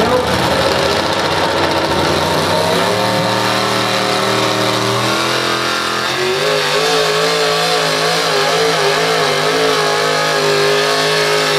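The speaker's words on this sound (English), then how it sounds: "You guys check out the tractor pull or the truck pull or whatever kind of pull that was." A loud, heavy engine roars continuously and its pitch rises and wavers as it revs hard under strain, with a rumbling mechanical drone throughout.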